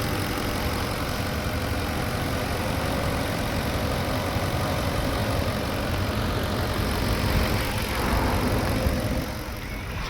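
A Porsche Cayenne Turbo engine idles smoothly and steadily, a constant low hum with no talking, easing slightly near the end.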